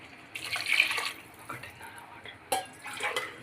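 Water poured from a glass into raw rice in a pot for cooking pulao, a few short splashing pours with gaps between them, close by.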